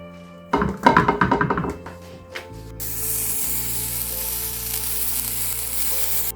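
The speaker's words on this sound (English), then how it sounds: "flatten it out like a little pate, just fry it off so you can have a nice bit of a taste to it" A flattened pork pie filling patty hits a hot pan with a few thuds, then settles into a steady, close sizzle of frying that carries on alone.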